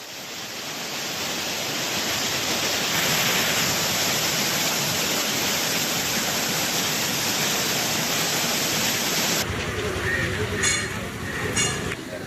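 Flooding waterfalls at Courtallam roar as a dense, continuous wash of heavy falling water. The roar stays loud and steady throughout, and the texture shifts near the end.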